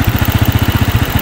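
A motorcycle engine idles just after a new clutch plate was fitted, a loud, close, steady low thumping with an even rapid rhythm and no voices.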